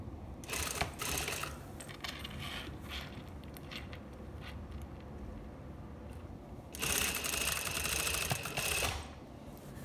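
A sewing machine stitches the shoulder seams of a lined dress: a quick opening burst, then quieter handling and clicks, and later a longer, steady run of close, rapid needle chatter.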